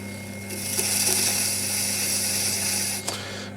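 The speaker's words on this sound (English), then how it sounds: "So we're going to trim this bit of clay off here." Wet clay is trimmed on a spinning potter's wheel with a steady close scraping rasp over the motor's constant hum, with a brief knock near the end.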